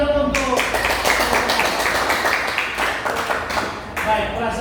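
A classroom full of students breaks into dense, sustained clapping for several seconds, loud and close, with a teacher's voice briefly heard at the start and end.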